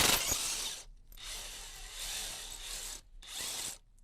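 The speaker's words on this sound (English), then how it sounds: "I've brought an impact wrench with a 22 millimeter socket" An impact wrench fitted with a 22 mm socket works a nut off a pool filter, giving three fairly quiet, whirring bursts separated by brief pauses.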